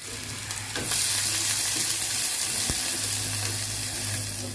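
Shallots and garlic frying for a prawn dish in a clay pot, a steady bright sizzle that jumps louder about a second in as ingredients hit the oil, with occasional stirring clicks and no voices.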